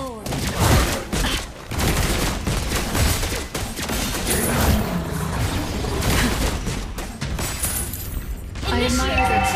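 Gunfire from a shooting video game, dense bursts of shots and booms running steadily through the whole stretch, loud and busy, with game voices mixed in near the end.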